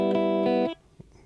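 Guitar arpeggios from a song, a short ringing run of picked notes that stops abruptly and leaves near silence.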